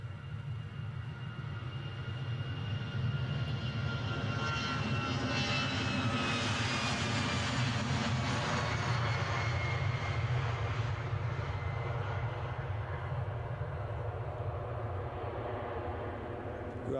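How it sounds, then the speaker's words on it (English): A departing airliner bound for Amsterdam roars steadily at Edinburgh airport, a loud, continuous engine rumble with a broad whine that swells and slowly shifts as the aircraft passes, filling the whole stretch without interruption. "So this plane off to Amsterdam."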